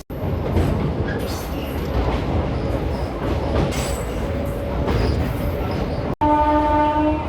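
A MEMU passenger train of Indian Railways between Guntur and Repalle runs with a loud continuous rumble and clatter heard from inside, ending with a sustained horn blast.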